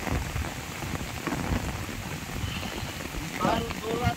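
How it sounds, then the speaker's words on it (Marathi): Heavy monsoon downpour in a Konkan jungle during a windy storm, dense steady rain drumming on surfaces close by, with faint voices and a few brief chirps near the end. "फार जोरात पाऊस चालू आहे"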